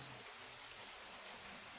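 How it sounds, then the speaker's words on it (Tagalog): Steady heavy rain hisses as an even, unbroken wash, faint and distant, with no voices over it. "malakas na naman ang ulan"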